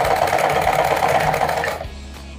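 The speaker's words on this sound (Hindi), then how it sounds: "इसी के साइड में एक बार और लगाएंगे, हम डबल सिलाई लगाएंगे इस पर, जिससे कि मजबूत रहे।" Sewing machine running a second line of stitching on a fancy lehenga chunri for a goddess idol, loud and close, a steady whir that stops abruptly near the end.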